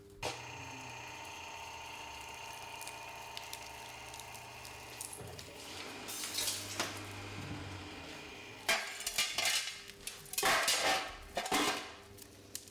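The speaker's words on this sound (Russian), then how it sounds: "Далее подводим поршень на небольшое расстояние и включаем пресс." Hydraulic press loads a concrete test sample with a low pump hum, then the sample gives way in a series of sharp cracks and crunching, gritty breaks that grow louder near the end, with no speech.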